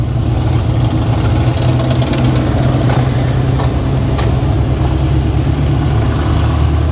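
Chevrolet C10 with a V8 engine runs loud and close, a deep steady burbling rumble holding at idle with slight throttle swells and no talk over it.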